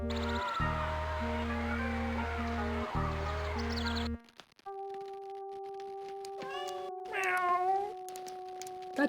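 A meowing cry from Star Trek: Judgment Rites rises briefly near the end, sounding like a person imitating a cat, after loud game music cuts off and leaves a quiet scene with steady electronic tones.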